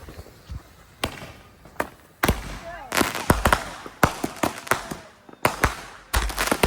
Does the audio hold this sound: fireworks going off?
yes